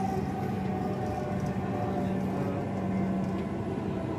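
A steady, droning rumble with a faint tonal whine runs throughout, like riding inside a moving Dhaka metro rail train car.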